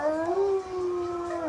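A young puppy gives one long, wavering howl up close, rising and falling slightly and held for over a second.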